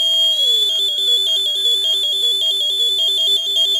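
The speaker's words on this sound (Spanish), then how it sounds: "Hace lo mismo que antes con el altavoz, pero ahora con el zumbador piezoeléctrico," A piezoelectric buzzer driven by an oscillator circuit fed from automatic LEDs gives a loud, shrill, piercing tone that drops in pitch and then warbles rapidly between two notes without stopping.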